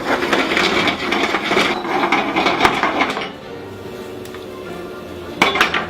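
Butter being swirled into a peppercorn duck pan sauce off the heat, with close scraping and clinking of a utensil against the pan, busy and loud at first, then quieter with a final clink.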